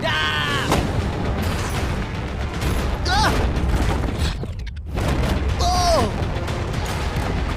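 Tanks fire shells at a shipping container, heavy booms and blasts mixed with whistling, swooping effects, while excited voices talk over the barrage throughout.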